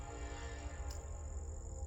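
A train rumbles past nearby outdoors, a steady roar with sustained horn-like tones, loud and continuous with no talking.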